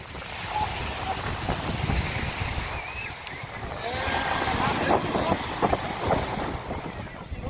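Sea waves at Mandvi beach wash in a continuous surging roar mixed with wind rumble, swelling louder in the second half.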